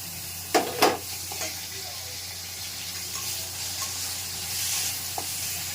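Raw chicken pieces are tipped into a hot pan with a brief loud splash of sizzle, followed by a steady, softer frying hiss with occasional stirring scrapes.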